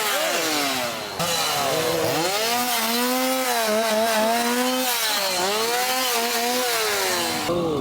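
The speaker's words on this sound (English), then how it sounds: "Here we actually have the roaming scare chainsaws." Roaming chainsaws at a Halloween scare zone in a theme park, revving loud and close with rising and falling engine whines that overlap for several seconds, with no talk.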